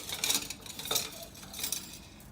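A wire whisk scrapes and clinks against a metal pot while breaking up a blob of cheese sauce for enchiladas, giving three short bursts of quick metallic scraping at fairly low volume with no talking.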